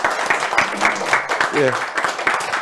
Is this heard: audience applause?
yes